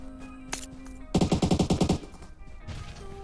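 Rapid automatic gunfire from PUBG Mobile rattles out in a burst of about eight or nine loud, evenly spaced shots, preceded by a sharp single report and followed by a shorter, quieter burst.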